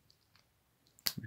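The blade of a Victorinox Spartan pocket knife snaps shut with one sharp, crisp click near the end, after faint handling rustles in a quiet room.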